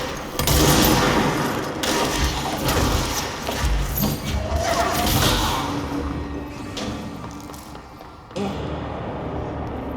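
Video game gunfire crackles in bursts of sharp shots and heavy thuds, loud and dense at first and then more scattered, with a player's voice talking over the action.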